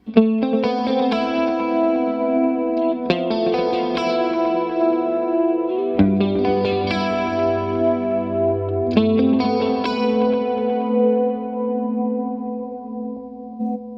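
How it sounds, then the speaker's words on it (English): Electric guitar chords with an 80s-style tone ring out with a shimmering chorus effect and echoing delay repeats, several strummed hits trailing into lingering tails. "I'm gonna dial in some delay and some chorus to hear how this sounds"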